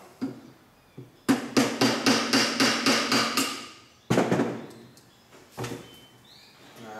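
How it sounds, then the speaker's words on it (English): Sharp hammer blows on the front fork of a 1990 Honda XLR250R Baja during disassembly: about nine evenly spaced, loud ringing metallic whacks in a fast run, followed by a few more isolated hits, with no talking. "give it a couple of good whacks"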